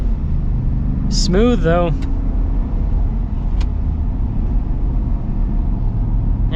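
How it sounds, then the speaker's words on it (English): Ford Super Duty 6.8L V8 truck on street tires straining in two-wheel drive, a loud steady low engine rumble throughout, with brief talking and a short squeal over it early on. "We're getting bogged down in two-wheel drive"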